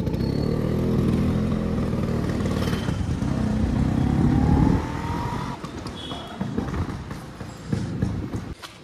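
A scooter hums along at a steady engine drone while riding, loud and close for the first several seconds, then easing into lighter rumble with faint clatter and road noise.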